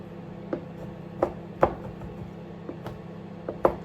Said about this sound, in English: I use a cleaver when chopping up fudge ingredients just because I find it easier